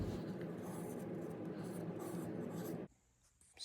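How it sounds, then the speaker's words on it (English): Pencil sketching spoon bowl shapes on paper, a steady close scratchy rubbing that continues for almost three seconds before stopping abruptly into near silence. "I'm just going to start sketching some bowl shapes"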